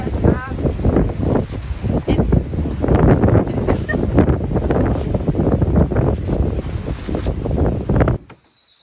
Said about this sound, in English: So windy today.